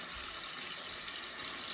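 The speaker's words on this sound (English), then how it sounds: "just gonna rinse it off with some warm or hot water" Warm tap water runs steadily over a laser-engraved pint glass in a sink, a constant hissing stream heard alone at moderate level with no talking.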